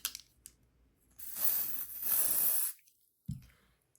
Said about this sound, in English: I'm gonna spray mine on a palette here so you guys can hopefully see that